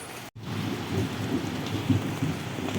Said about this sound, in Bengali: মেঘ ডাকছে, তোমার ভয় করছে না?